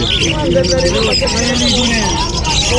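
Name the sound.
parakeets chirping at a pet market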